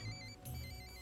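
A telephone rings with an incoming call: a short, loud electronic ringtone of bright sustained tones, with a brief break and then more ringing, heard alone.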